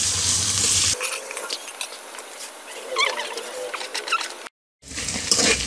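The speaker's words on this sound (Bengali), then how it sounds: "এখন এটাকে ভালো করে নেড়ে চেড়ে হালকা ব্রাউন কালার করে ভাজতে হবে।" Onions stir-fried in a pan until light brown, ahead of a cabbage dish: close crackling sizzle with frequent scraping stir strokes and small pops, broken by a short silent gap near the end before the frying resumes.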